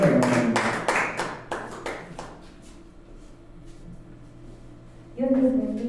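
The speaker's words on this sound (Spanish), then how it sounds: "Vamos a dar un fuerte aplauso." A small congregation claps at a Spanish-language evening church service, a short burst of close, scattered claps that dies away after about two seconds into a quiet room, with a voice coming in at the end.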